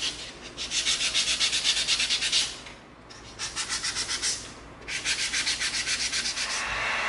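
Hand sanding smooths the bandsaw marks off an EVA foam knife in three rapid bursts of rhythmic back-and-forth scratchy strokes, separated by short pauses, close and fairly loud.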